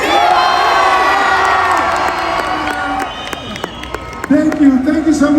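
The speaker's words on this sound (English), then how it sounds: "Big applause, because we are ready to watch Mission Impossible 2." A lively studio crowd in Mexico cheers, whoops and applauds at a film event with Tom Cruise before a Mission Impossible screening, with loud overlapping shouts and voices that swell again near the end.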